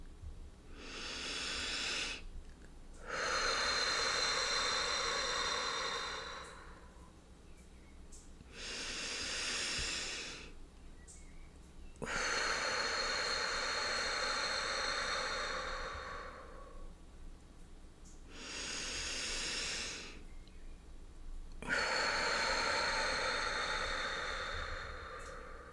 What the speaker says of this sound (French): j'effectue 3 grandes et vastes respirations pour bien oxygéner tout